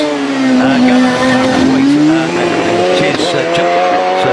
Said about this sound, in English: the shared Pilbeam with the Rover V6 in it